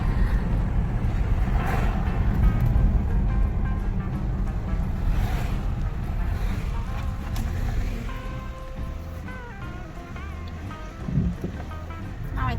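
Strong wind roaring through the open windows of a car on a long drive, a loud, steady buffeting rush that fills the whole stretch, easing slightly toward the end, with a brief thump near the close; a voice imitates the whooshing.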